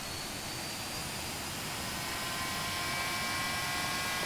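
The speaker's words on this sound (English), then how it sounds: "Very interesting sound for the jets too." The jet engine of a C-101 Aviojet in the DCS World flight simulator roars at full power, a dense, steady rushing blast with faint whining tones, loud and continuous throughout.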